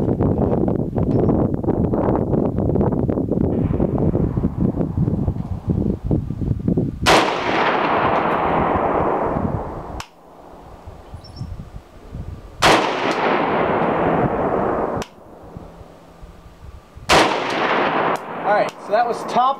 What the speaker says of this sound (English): I'm shooting some Tula, 122 grain, FMJ.